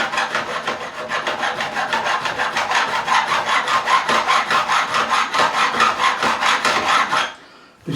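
Coarse abrasive rubbing back and forth over the frets of a Korean-made Fender Light Ash Telecaster during a re-fret, a steady rhythmic rasping of even strokes that runs close and alone, then stops abruptly near the end.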